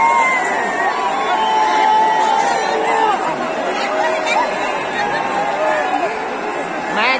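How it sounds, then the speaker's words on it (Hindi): A large crowd chatters and babbles as spectators leave through the exit of JSCA stadium in Ranchi after an India vs New Zealand T20 cricket match, a steady, loud hubbub of many voices close by with occasional shouts. "एग्जिट पॉइंट पे काफी जो है भीड़ हो चुकी है।"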